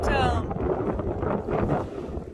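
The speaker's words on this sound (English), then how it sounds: "It's a little windy" Gusty wind buffets the microphone in low rumbling bursts while kayaking on the Colorado River near Laughlin, Nevada, with whitecaps on the water, rising and falling over a couple of seconds, with a brief whistling tone at the start.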